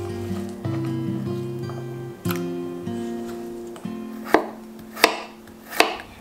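Lotus root being peeled and cut into 1 cm cubes, knife strokes landing on a cutting board in a few sharp, close chops that grow more distinct toward the end, with a low background hum and no talking.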